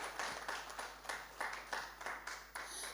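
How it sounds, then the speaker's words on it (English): A conference audience at a women in financial markets event gives applause, with a modest, steady patter of claps that swells in rhythmic clusters and sounds fairly distant and soft, with no talk over it. "A round of applause for Financial Markets in Daba."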